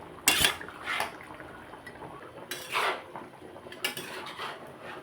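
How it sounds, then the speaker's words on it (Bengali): A spoon scrapes and clinks against a pan while gently stirring chicken malai kofta in gravy, with a few close, separate bursts of metal-on-pan contact and soft wet sloshing between them. "এবার এটাকে হালকা হাতে নাড়িয়ে নেব।"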